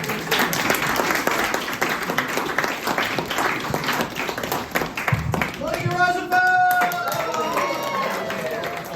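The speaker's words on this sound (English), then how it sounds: "Another round of applause, well done." Audience applause fills a comedy club on opening night, dense continuous clapping with crowd noise and some voices, ending in whoops and a whistle-like cheer.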